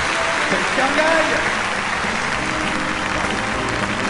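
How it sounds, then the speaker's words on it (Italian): Audience applause at the Monte Carlo circus festival after a big-cat trainer's act, a dense, steady wash of clapping filling the whole stretch, with indistinct voices mixed in. "ci voleva proprio un bel applauso per sbloccare la situazione"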